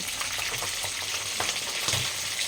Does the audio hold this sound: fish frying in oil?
yes